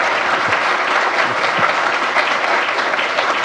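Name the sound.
audience applause after talk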